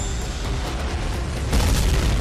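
Helicopter blown apart by a missile, a loud roaring blast that rumbles continuously and swells heavier toward the end.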